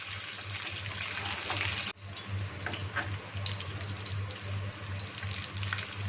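Chapli kababs fry in oil on a flat tawa griddle with a steady, close, continuous sizzle that holds evenly throughout, with one brief dip in the middle.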